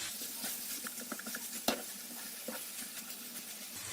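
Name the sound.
minced meat cooking with softened onions in a pan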